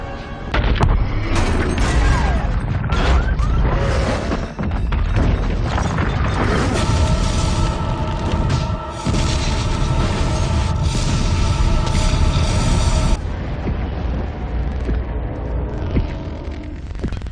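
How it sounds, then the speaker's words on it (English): Loud, dense explosive crashes and booms pile up continuously, sounding like detonating devices going off in a chaotic rush with heavy rumbling and smashing debris; no talk is heard. "devices have detonated in the following cities"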